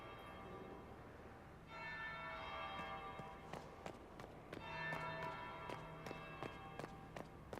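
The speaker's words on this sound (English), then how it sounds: "That would be the second bell." Church bell tolling in the fantasy game Dragon Age Inquisition, faint resonant strikes sounding repeatedly beneath a bed of ambient music and soft footsteps.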